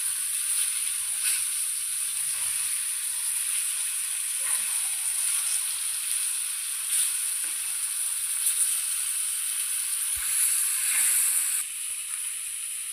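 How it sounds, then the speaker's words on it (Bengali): Fish fried in a pan on a stove, turned partway through cooking, gives a steady close sizzle that runs unbroken and fairly loud throughout, with a few faint clinks and stirring touches beneath it. "মাছটি আরেকটা উল্টান দিয়ে দিতেছি, যেহেতু মাছটি ভালো মতো ভাজা নিয়ে লাগবো"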